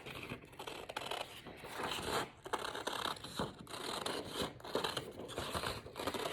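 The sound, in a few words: cutting out a paper leprechaun shape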